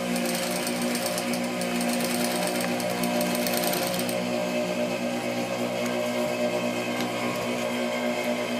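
A sewing machine stitches a reinforcing seam on a felled seam, a steady, fast mechanical hum and rattle running continuously at close range.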